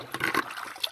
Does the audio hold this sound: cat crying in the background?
no